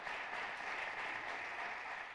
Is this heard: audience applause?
yes